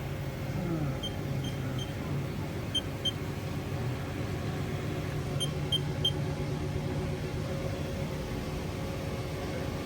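A 2013 HAAS TM-1 CNC vertical milling machine spindle runs steadily at 1,000 RPM, a continuous broadband machine drone with a low hum, a few faint high electronic beeps, no voices.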